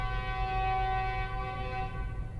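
A train rolls past with a steady low rumble while its horn holds a sustained, loud tonal blast throughout, close by and with no voices over it.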